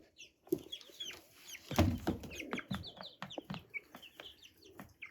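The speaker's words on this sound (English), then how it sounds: "These are the chicks from my last batch." Chicks in a brooder cheep with high, rapid chirps that overlap almost continuously, fairly close, with a few soft thumps and shuffling noises underneath.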